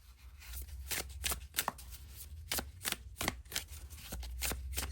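Tarot and oracle card decks being shuffled by hand, a run of crisp riffling bursts and papery flicks repeating at close range over a low background hum, with no talking.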